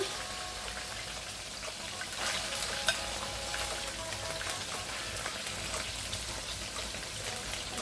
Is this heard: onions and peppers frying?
yes